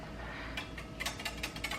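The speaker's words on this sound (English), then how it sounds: "Borrow the whisk from the dry ingredients, whisk this together" Eggs and oil whisked together in a bowl for waffle batter, a quick rhythmic metallic clicking and scraping of the whisk that sounds close and steady, with no talking.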